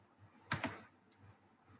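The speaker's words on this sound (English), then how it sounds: "Right, I'm typing the link in the chat now." Computer keyboard typing, a quick pair of close key clicks followed by one fainter tap, quiet and alone with no voices.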